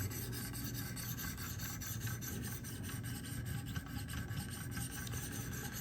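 A Spyderco PM2 knife with Maxamet steel is sharpened on the stones of a Wicked Edge guided sharpener. Steady, rhythmic rasping strokes repeat close by and without pause, with no talk.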